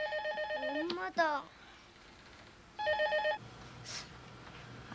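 A telephone rings in two short electronic trills separated by a pause, with a brief burst of voice and faint background noise between them.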